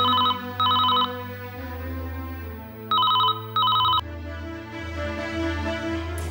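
A telephone rings in paired bursts, two rings, a pause, then two more, over a low steady background tone.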